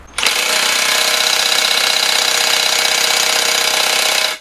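A Makita impact wrench drives an earth auger into the ground at its top setting, a loud, steady, close hammering rattle that starts abruptly and holds for about four seconds before cutting off.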